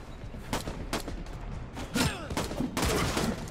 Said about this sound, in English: Uh oh, shotgun.